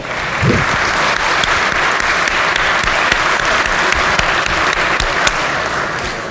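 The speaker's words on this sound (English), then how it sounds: "let's give him a good round of applause" Sustained applause fills a legislature chamber, a dense steady clapping from many hands at even loudness throughout, with no talk over it.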